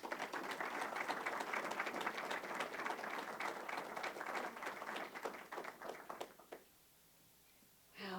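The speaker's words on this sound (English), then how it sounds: "Another round of applause, maybe, for that momentous announcement" Sustained applause from an audience after a joint announcement by a bridge authority and a national trail group, dense and steady for about six seconds before cutting to near silence, with a brief voice at the very end.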